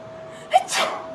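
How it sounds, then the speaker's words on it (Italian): A single sharp sneeze performed on cue by a person, a quick inhaled catch followed by a loud burst of breath, close to the microphone against a quiet room with a steady faint hum. "Vuoi interpretare uno starnuto?"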